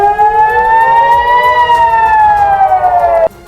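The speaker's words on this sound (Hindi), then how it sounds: "और सायरन बजने लगे।" An air raid siren sounds in northern Israel, a loud, steady wailing tone that slowly rises and falls in pitch, heard close and alone before cutting off abruptly.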